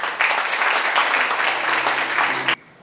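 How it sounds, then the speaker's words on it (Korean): A book concert audience welcomes a reader with applause, a dense, sustained wave of many hands clapping at close range that stops suddenly near the end. "박수 부탁드립니다."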